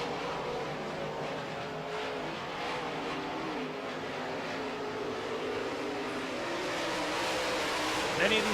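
Modified race cars circle a short oval track during a 2014 heat race, a steady loud engine roar with rising and falling revs from several cars, under crowd and commentary noise.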